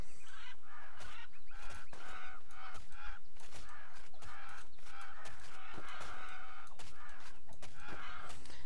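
Repeated goose-like honking from hostile birds in the Titan Quest Anniversary Edition video game, a steady run of loud calls close by during combat, with sharp hit noises scattered between them.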